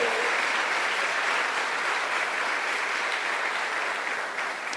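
A large church congregation applauds steadily for several seconds, a dense even wash of clapping that fades slightly at the end.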